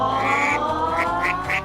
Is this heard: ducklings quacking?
yes